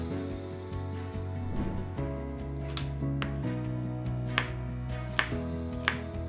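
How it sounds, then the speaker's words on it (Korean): A knife chops onion and green onions on a cutting board, a few sharp cuts standing out over steady background music. "양파 반 개를 채 썰어 주시고 대파와 쪽파를 잘게 썰어 주세요."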